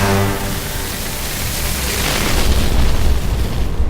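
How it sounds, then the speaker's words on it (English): A designed explosion effect for Doctor Who, processed to sound like something else, rolls as a loud, dense broadband roar that swells and rumbles continuously for several seconds. "it's mainly an explosion"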